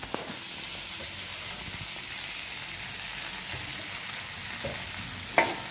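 Tomato pieces added to a pan of potato and drumstick curry sizzle and fry steadily, a constant close hiss with a few soft stirring knocks and a brief louder clatter near the end.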